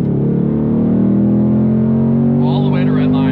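A 2024 Ford Mustang Dark Horse engine pulls flat out from 4,000 rpm, a loud, steady, rising drone filling the whole clip, with a voice briefly heard near the end.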